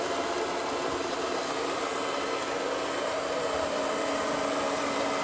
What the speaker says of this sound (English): the vacuum cleaner is vacuuming around him